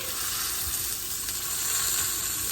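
A thick chicken breast turned on its side and searing in a hot pan, a steady, even sizzle and hiss that holds at a moderate level throughout, with no voices.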